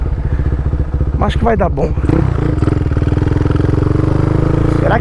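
A modified Honda Twister motorcycle with a 79 mm big-bore kit chugs in a fast, loud, pulsing rhythm close by, while someone speaks briefly over the engine noise.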